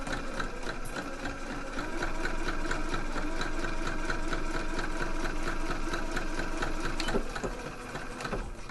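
A sewing machine runs steadily and close up while back stitching the raw edges of a dress neckline facing, a continuous rapid mechanical hum with a slight change in pace toward the end.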